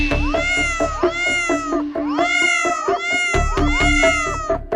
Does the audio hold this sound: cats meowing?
yes